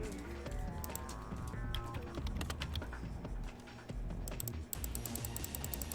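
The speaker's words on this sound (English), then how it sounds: "it takes a lot more clicking, as you can probably hear" Rapid computer mouse clicking during a game of Terraria, a dense stream of sharp clicks in quick irregular bursts, fairly close and without talk.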